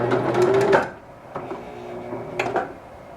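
Sewing machine running a short back stitch on a scarf, a steady mechanical whir for under a second, then fainter stitching bursts and clicks, close and fairly quiet.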